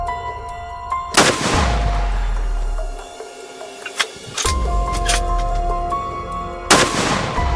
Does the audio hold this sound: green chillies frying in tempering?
no